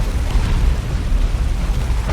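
Orbital bombardment in the Dawn of War 2 strategy game lands as a sustained, loud, rumbling explosion with heavy low-end roar and crackle, filling the whole stretch without pause.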